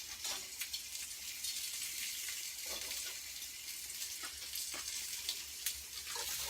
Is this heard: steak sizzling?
yes